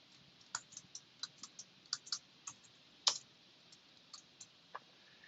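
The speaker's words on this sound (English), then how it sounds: "if I type the cron expression" Typing on a computer keyboard, a sparse run of soft close clicks and taps at an uneven pace, with one sharper keystroke partway through, alone in a quiet room.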